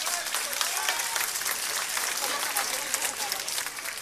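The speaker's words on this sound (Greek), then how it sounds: "Ένα χειροκρότημα και για τον Νίκο τον Κεφαλογιάννη" Sustained audience applause fills a Cretan artists' awards ceremony held by a Mylopotamos association in Heraklion, dense steady clapping that stays loud and even throughout.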